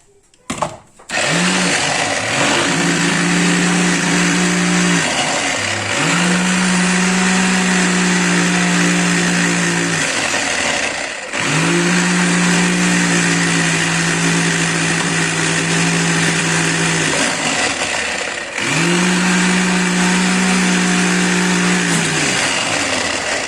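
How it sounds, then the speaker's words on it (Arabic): A food processor grinds a fish marinade with lemon in long, loud, high-pitched whirring bursts, each separated by a short pause, roughly four runs in a row close up. "تتبيله السمك اتطحنت خالص على الكبه اهي"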